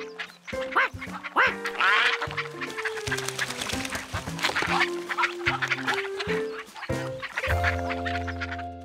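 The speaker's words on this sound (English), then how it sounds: "George had never had ducks swim all around him before." Several ducks quack busily close by, overlapping harsh calls in an irregular chatter, mixed with clucking and a steady musical backing.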